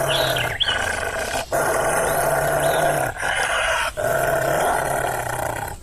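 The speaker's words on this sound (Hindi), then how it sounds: "तभी भेड़िया उसे देखकर गुर्राने लगता है" A wolf's deep, rumbling growl sustained in long bursts with brief pauses, close and fairly loud over a layered background.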